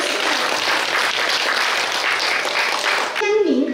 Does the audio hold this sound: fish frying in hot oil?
no